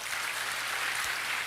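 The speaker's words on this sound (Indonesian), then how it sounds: "tepuk tangan saudara." Church congregation clapping, a dense, steady wash of applause filling the hall with no talk over it.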